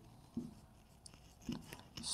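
Pen on paper jotting notes in a few short scratchy bursts, close and quiet, with faint pauses between strokes; no one speaks.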